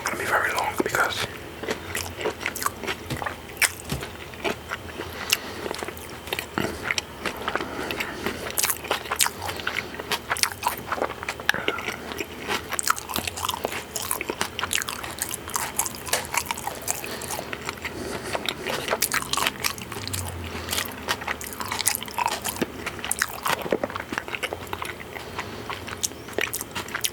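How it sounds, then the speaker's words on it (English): Breakfast food is bitten and chewed right at the microphone during an ASMR mukbang, with dense, continuous crunchy and wet mouth sounds and soft whispering throughout. "I don't usually chew this long, my food."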